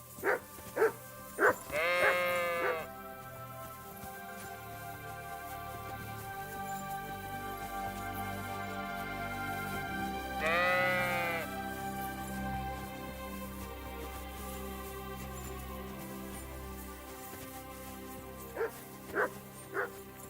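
Sheep bleat in the medieval video game Kingdom Come: Deliverance 2, with a few loud wavering cries near the start, another around the middle and short calls at the end, over a low ambient game soundscape.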